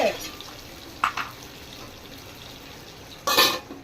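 A metal lid clanks onto a pot of brinjal curry with tomato, in a few short clinks and scrapes that stand out over a quiet kitchen background, with a person talking nearby.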